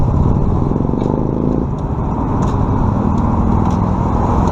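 Honda Trail 125 motorcycle on a ride toward the beach, with a loud, close, steady engine drone and road and wind rumble. The sound runs without pause, and faint rattles ride on top.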